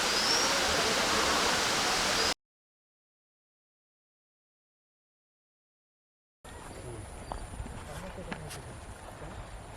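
A loud, dense rush of a waterfall in Khagrachari fills the opening seconds, then cuts to silence, followed by a quieter, steady watery hiss.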